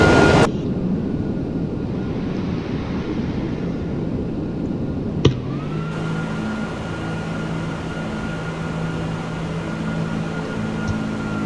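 Airbus A330-300 jet engines of a Brussels Air airliner climb in the X-Plane 12 simulator with a steady, loud roar. A click partway through is followed by a rising whine and sustained engine tones.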